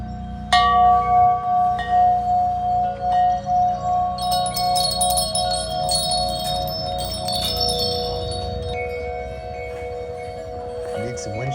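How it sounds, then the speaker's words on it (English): Wind chimes ring at a garden nursery, clear sustained metallic tones struck repeatedly and overlapping, close and fairly loud, with a brighter flurry of higher chimes in the middle. "Need some wind chimes?"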